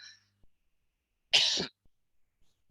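A teacher gives a single short, harsh cough in a near-silent room during a lesson, with a few faint clicks and rustles before and after.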